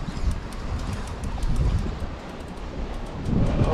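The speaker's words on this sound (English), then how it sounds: "Pretty windy out there." Wind buffets the microphone in a continuous rushing roar with gusty low rumbles, loud and close, with no voices, while fishing for catfish on open water.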